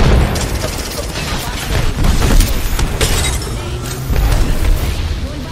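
Grenades going off in the Apex Legends video game make a dense, loud wash of booms and gunfire that runs the whole time, with a few louder swells and no clear gaps between them.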